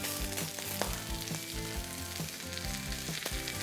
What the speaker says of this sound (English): We're just going to put a nice sear on it.